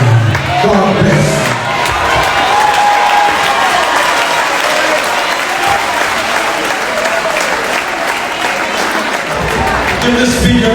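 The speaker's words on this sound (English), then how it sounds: "Give the speaker a big clap at that" A church congregation at a thanksgiving memorial service claps and applauds loudly, a dense sustained roar of hands with crowd voices and some cheering mixed in, filling the room for the whole stretch.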